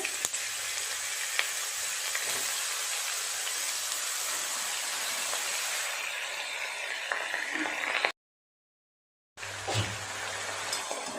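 Chopped bottle gourd hitting hot oil tempered with cumin seeds, a dried red chilli and a bay leaf, giving a steady, close, loud sizzle that runs without a break, briefly cuts out, then resumes.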